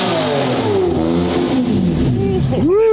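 A straight-piped McLaren Senna hypercar engine, loud and close, rising and falling through pitch sweeps and then revving sharply near the end, with voices mixed in.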